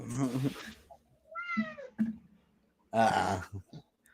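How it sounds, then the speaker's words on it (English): A fake cat meow played from a soundboard comes through as a short, bright, wavering synthetic mew between bits of talk, with people speaking before and after it. "Was that a fake cat I heard back there?"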